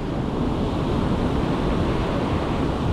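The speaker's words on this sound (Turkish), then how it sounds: "Şu dalgalara bak." Ocean surf rolls in at a Bali surf spot, a loud steady roar of breaking waves mixed with wind buffeting the microphone, with no voices.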